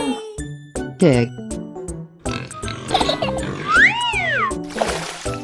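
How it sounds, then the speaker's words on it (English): A pig grunts and oinks in a 3D animal video game, mixed with tinkling jingles, dings and rising-falling cartoon whoops in a lively, cluttered game soundtrack. "Pig."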